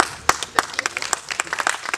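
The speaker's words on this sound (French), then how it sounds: "Il faut acclamer pour Manu." Audience at a live comedy stand-up show applauding and cheering for Manu, with dense, steady clapping from a nearby crowd that sharpens into a few louder claps.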